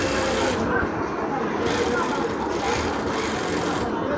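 A sewing machine stitches a shirt collar in a tailoring workshop, running in short bursts that start and stop, with a steady mechanical whir beneath a person talking.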